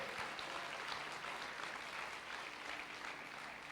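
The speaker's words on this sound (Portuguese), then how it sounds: "Pode aplaudir, glória a Deus" A church congregation at a youth conference applauding, steady clapping filling the room throughout at a faint, distant level with no talk over it.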